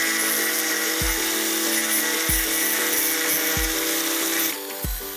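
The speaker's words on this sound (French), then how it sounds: "à l'aide d'une meuleuse d'angle, je vais enlever tous les clous qui dépassent" An angle grinder strips protruding nails from pallet wood, running as a loud continuous whine with several sharp dips and bursts as the disc bites into the metal and wood.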